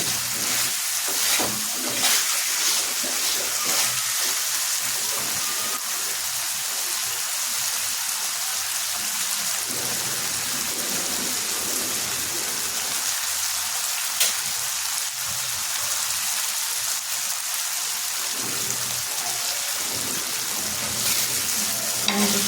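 Dried fish frying in hot oil in a pan, a steady close sizzle with occasional stirring scrapes and spatters running throughout, with no voices.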